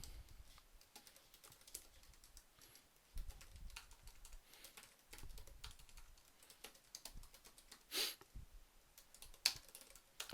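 Someone types a post for a website message board on a computer keyboard. Soft, quiet, irregular key clicks come in short bursts with small pauses, alone in a quiet room.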